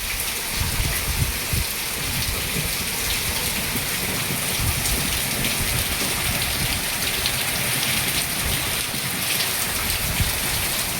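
A monsoon downpour drums without pause over Mohabbat Para village near Kutiyana, a thick, unbroken wash of raindrops hitting the ground nearby, loud and steady with no speech.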